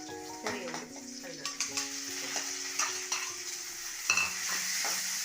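Squid curry with chopped onions and shallots being stirred in a hot pan, producing a steady sizzle broken by repeated scraping strokes of a spoon against the pan.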